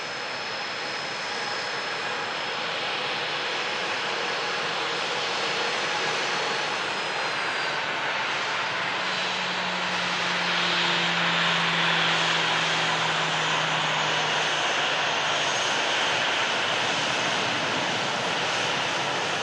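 A passenger airplane taxiing past at an airport, a steady broadband engine roar with a low propeller-like hum that swells slightly as it passes, loud and continuous with no voices.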